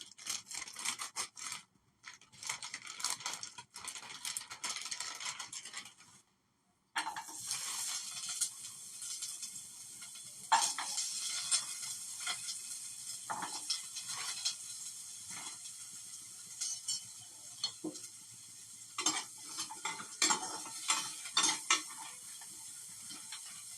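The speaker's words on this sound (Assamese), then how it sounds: "আমুল পনীৰ অকণমান এইখিনি ঘিত ফ্ৰাই কৰি ল'ম" Amul paneer fries in ghee in a pan under a thin, crackly sizzle broken up by scraping and stirring of a metal utensil, with brief pauses and clinks throughout.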